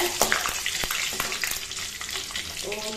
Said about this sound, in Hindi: और फोरन डालने के बाद ये थोड़ा सा उबलने लगता है